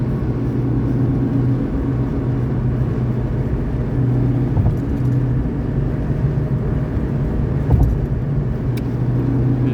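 A Tofaş car drives along a road, a steady low engine drone and road rumble heard from inside the cabin, constant and fairly loud with no talk.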